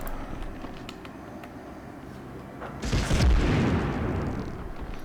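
A grenade blast in the World War II shooter Medal of Honor, one loud booming burst that rises sharply and then rumbles away over a low background of game ambience.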